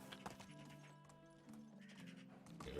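Horse hooves clip-clopping in the Medieval Dynasty video game, a quiet, rhythmic clatter of steps set over a steady game music backdrop.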